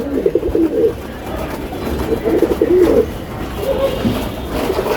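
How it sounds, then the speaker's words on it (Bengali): Pigeons coo repeatedly on a rooftop, several overlapping bursts of low throaty cooing in irregular phrases, fairly close, over a steady background hum. "কবুতরগুলো অনেক চঞ্চল"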